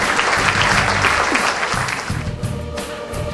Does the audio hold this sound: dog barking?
no